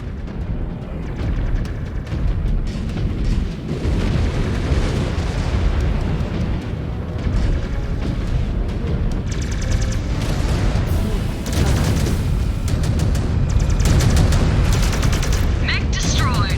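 Mechs battle in MechWarrior 5 Clans with dense weapons fire, booming blasts and a mech explosion, loud and continuous, while clipped radio-style voices call out over the combat.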